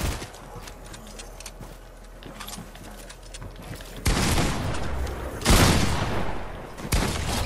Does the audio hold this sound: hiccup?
no